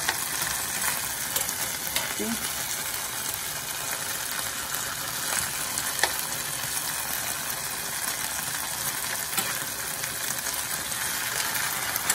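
Shrimp with string beans and garlic sauce stirred in a hot pan, a steady close sizzle and frying crackle with occasional scrapes and clinks of the spatula throughout.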